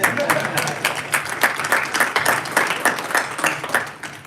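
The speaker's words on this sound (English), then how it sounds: "I can get a round of applause." An audience at a borough council meeting gives a round of applause, with distinct clap bursts in an uneven rhythm, fairly close and loud, fading slightly toward the end with scattered voices beneath.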